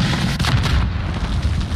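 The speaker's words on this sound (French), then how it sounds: "il tire vraiment dessus à la roquette là?" A rocket launcher fires in a battle royale shooter, landing as a loud, deep boom. A rumbling blast follows and carries on through the clip, close and heavy with no voices.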